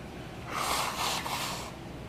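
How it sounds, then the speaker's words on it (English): A single forceful nose blow, a breathy honking burst lasting about a second with a brief pause in the middle, close up and alone. "I got to blow my nose."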